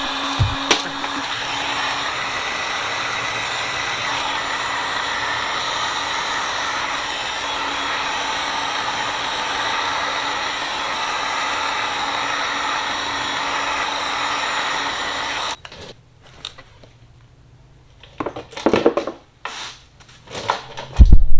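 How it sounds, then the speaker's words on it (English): A heat gun blasts hot air in a steady, loud, unbroken roar for about fifteen seconds while working on a Jeep XJ, then cuts off, leaving a few close clunks and handling knocks. "Grab yourself a heat gun."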